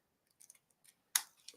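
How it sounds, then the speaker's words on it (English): Scissors snip while trimming at close range: a few faint small cuts, then one sharp, crisp snip, in an otherwise quiet room. "Grab our scissors and just trim that down."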